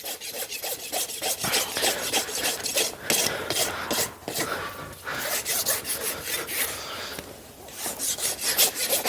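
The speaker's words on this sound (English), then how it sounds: "As you can see, the majority of my rasping has been done on the front part of the foot." A farrier works a rasp over the front of a dressage horse's hoof, giving steady repeated scraping strokes up close, with no talking.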